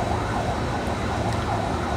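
An ambulance siren wails in a continuous rising and falling pattern, loud and steady, with no talking over it.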